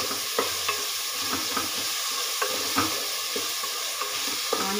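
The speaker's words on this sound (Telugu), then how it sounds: "పసుపు, కరివేపాకు ఇవన్నీ వేసుకొని బాగా మిక్స్ చేసుకోవాలి" Turmeric, curry leaves and onions frying for tomato rice hiss in a steady bright sizzle while a spoon stirs and scrapes at a loose regular rhythm, close to the pan, with no speech.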